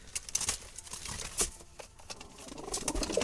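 Wild Jalali pigeons in a loft give off a busy mix of soft wing flutters, scratchy pattering and faint coos, with sharp bursts of fluttering rising and falling throughout at close range.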